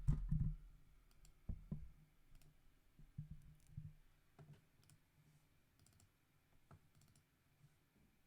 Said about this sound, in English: So you'll definitely be able to hear me typing